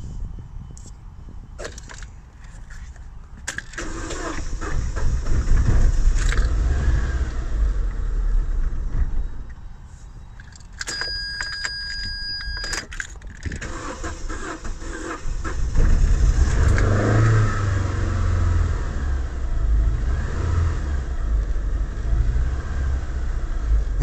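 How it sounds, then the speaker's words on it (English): A 2000 Holden Astra with the Z18XE engine and a failing mass airflow sensor cranks and catches, then idles with a low uneven rumble that swells and dips, with a few sharp clicks and a brief tone partway through. "So I'm going to start the vehicle now"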